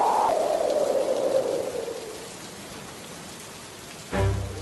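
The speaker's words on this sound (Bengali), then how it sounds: "দেখেছো কেমন ঝড় হচ্ছে, সাথে শিলাবৃষ্টি।" A cartoon storm with hail: a steady, fairly loud rain-like hiss that fades over the first couple of seconds to a quieter wash, then a brief, different thump-like burst near the end.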